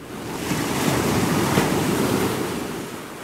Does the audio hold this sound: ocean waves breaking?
yes